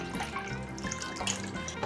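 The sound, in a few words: beef broth poured into a soup pot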